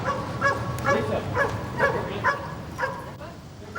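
A narcotics detection dog at U.S. Customs barks in a quick series of about eight sharp, close barks, roughly two per second, over a low background murmur.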